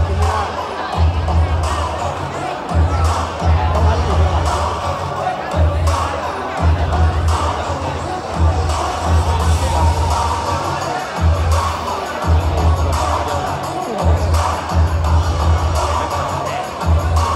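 A loud Muay Thai stadium crowd roars and chants steadily throughout, with rhythmic pulses of cheering and shouting rising in waves, accompanied by a thumping low beat.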